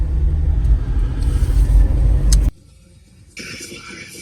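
A vehicle drives along Park Road 12 in Big Bend National Park, heading toward the dirt of Glen Springs Road. A close, steady low rumble runs, then drops away abruptly into quieter sound.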